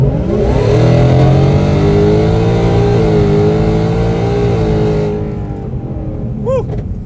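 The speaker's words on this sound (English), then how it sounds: "give you guys a quick little pull with this car so you guys can hear it under wide open throttle" A 2024 Ford Mustang accelerates hard at wide open throttle, its engine note loud and sustained as it climbs through the revs for about five seconds before fading, with a brief exclamation at the end.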